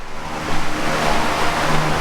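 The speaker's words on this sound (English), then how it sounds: "We have an exhaust fan that's probably pretty loud." A loud exhaust fan running steadily during a hot-mop tar waterproofing job on a shower, giving a constant broadband roar close to the microphone.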